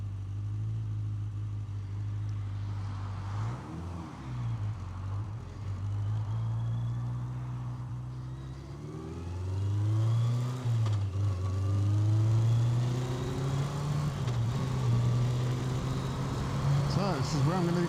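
Steady traffic at a busy road junction in the UK, with a continuous low engine rumble from cars and trucks that swells and shifts as vehicles idle and pull away nearby.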